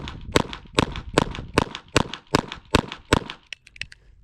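Taurus TX22 .22 pistol firing CCI Mini-Mag 36-grain rounds at steel plates about 10 yards off, eight sharp evenly spaced shots in quick succession followed by faint metallic pings.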